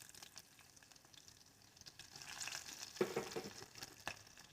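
Chopped red onions with curry leaves and seeds sizzling in hot oil while being stirred for a bottle gourd masala curry, a faint steady crackle with spatula scrapes growing livelier midway.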